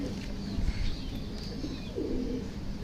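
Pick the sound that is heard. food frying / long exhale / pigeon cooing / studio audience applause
pigeon cooing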